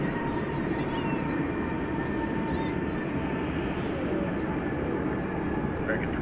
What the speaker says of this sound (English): That American Eagle Embraer 175 arriving from Midland, Texas.